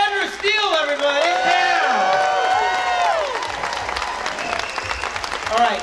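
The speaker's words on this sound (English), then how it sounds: "A round of applause for Clarissa" An audience at a movie world premiere Q&A bursts into loud applause with whoops and cheers, clapping fading gradually over several seconds.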